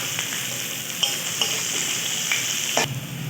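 Chopped onion frying in hot mustard oil, a steady close sizzle with a few brief stirring scrapes and clicks along the way, ending in one louder scrape near the end; no voices.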